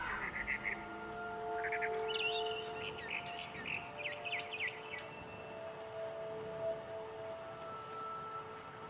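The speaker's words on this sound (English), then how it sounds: "Then I heard chirping outside my window. It was a barn swallow going back to her nest." A barn swallow chirps in the video game What Remains of Edith Finch, with short high tweets and trills in the first half over a soft sustained musical backdrop, fairly faint.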